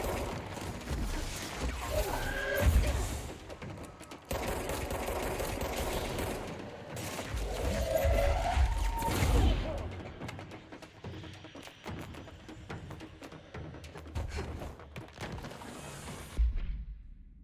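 Gunshots in the video game Control, with loud bursts of rapid fire and heavy thuds in clusters, broken by brief pauses, while a voice speaks at times.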